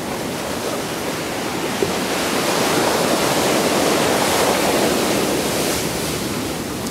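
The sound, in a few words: Caribbean Sea waves at Santa Marta, Colombia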